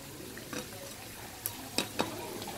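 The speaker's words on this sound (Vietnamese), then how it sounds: "Thôi kệ, chiên chút nó đi cho giòn luôn." Snake pieces deep-fry in oil in a pan, a soft continuous sizzle broken by a few sharp stirring clatters and spits.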